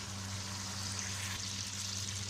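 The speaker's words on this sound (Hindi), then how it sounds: "फिर उसमें हमें थोड़ा सा पानी डालना है।" Karahi gosht with tomatoes frying in a pot after a little water is added, giving a steady, close, even sizzle with a low hum underneath throughout.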